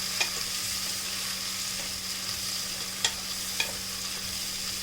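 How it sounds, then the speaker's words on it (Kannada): Vegetables for vangi bhat frying in a spiced oil tempering, a steady low sizzle with a few sharp clinks of a spoon against the pan, no voices. "1-2 ನಿಮಿಷ ತರಕಾರಿನ ನಾವು ಒಗ್ಗರಣೆಯಲ್ಲಿ ಫ್ರೈ ಮಾಡ್ಕೊಳ್ಳೋಣ"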